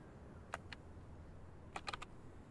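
Keys on a computer keyboard clack in two sparse bursts, a pair of taps and then a quick cluster of four, faint over a low room hum.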